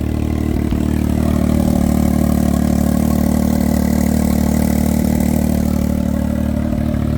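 Engine idling through an RPM Powersport 3-inch Monster Core muffler exhaust, a steady, deep, low rumble held evenly throughout, loud and close with no talk.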